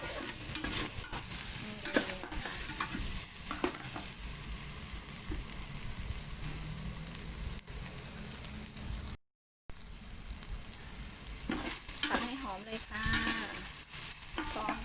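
Pounded aromatics stir-fried in a wok for a squid and holy basil stir-fry make a continuous close sizzle, with scraping stirring strokes throughout and a momentary dropout midway.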